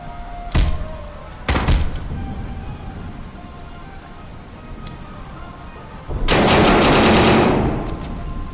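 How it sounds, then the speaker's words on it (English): Gunfire in the Incoming Storm video game: two sharp shots early, then a loud sustained burst of rapid fire lasting about two seconds, with no talking. "Ooh, I got shot like crazy there"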